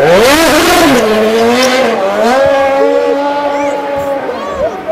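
Car tires squeal in long, wavering, loud whines as a learner driver loses control during a driving lesson, fading slightly toward the end, with voices talking over it.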